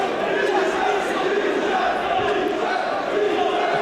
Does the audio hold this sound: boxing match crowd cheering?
yes